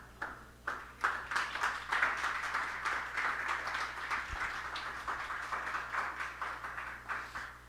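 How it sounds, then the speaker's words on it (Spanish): During a religious talk on Marian consecration, an audience applauds for several seconds with a full, sustained patter of many hands and faint rhythmic surges, moderately distant. "Denle un aplauso a la madre, se lo merece, ¿verdad?"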